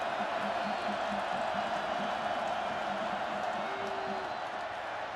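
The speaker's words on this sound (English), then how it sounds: "This crowd is getting cranked up once again" Football stadium crowd at a Sam Houston Bearkats versus North Dakota State Bison game, a broad, steady roar of cheering that fills the whole clip, with an announcer's voice faintly in the mix.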